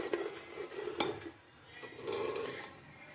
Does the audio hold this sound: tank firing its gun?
no